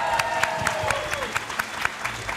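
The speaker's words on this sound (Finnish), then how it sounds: "Annetaan vielä isot aplodit kaikille upeille osallistujille." An audience applauds participants at a Seinäjoki event, the clapping crisp and sustained with sharp individual claps standing out over a soft hum of crowd noise.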